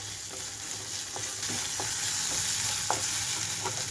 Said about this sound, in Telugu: ఇప్పుడు ఇందులోని అల్లం వెల్లుల్లి పేస్ట్ కూడా వేసేసుకుంటున్నాము హై ఫ్లేమ్లో ఉంచుతున్నాను